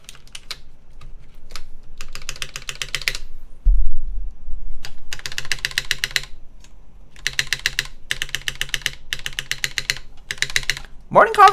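Custom mechanical keyboard built on a Merisi x Mechlovin Sintesi, typed on in quick bursts with clacky keystrokes and a GMK spacebar under test, close and crisp, separated by short pauses and a brief low thump.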